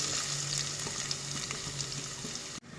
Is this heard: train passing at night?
no